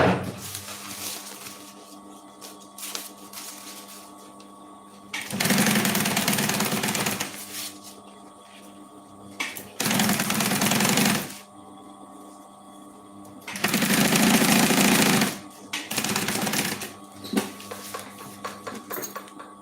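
Sewing machine stitching a seam that joins three fabric pieces for a cosmetic bag, running in several loud bursts of rapid mechanical chatter separated by quieter pauses with faint handling clatter.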